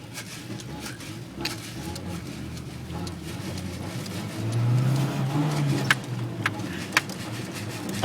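A truck engine runs and revs normally, a steady low mechanical drone rising into a brief swell of revving midway, with a few sharp clicks and knocks on top and no talking.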